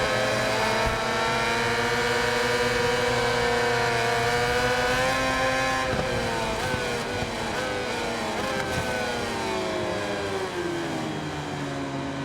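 A 990cc MotoGP racing motorcycle screams at high revs in a tall sixth gear in MotoGP 21, a loud continuous engine whine with rising and shifting harmonic tones that holds for the whole stretch, heard alone.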